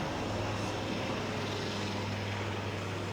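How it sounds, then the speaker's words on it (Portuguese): A helicopter flies overhead, a steady low rotor drone with a broad rushing wash holding at an even, fairly loud level throughout, with no talk over it. "Helicóptero."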